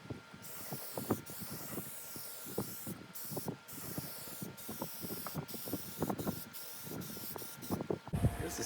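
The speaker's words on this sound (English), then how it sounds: "I'm gonna just hit it with a coat of this grill paint here" Bursts of aerosol grill paint spray onto a rusty one-year-old grill, short hissing blasts repeating in an uneven rhythm with brief pauses, close and fairly quiet with faint handling clicks.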